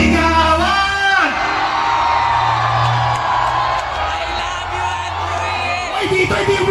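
A live concert crowd at a show in Pampanga shouts, whoops and cheers loudly and continuously, with a rising yell near the start and a dense wall of voices that carries on throughout.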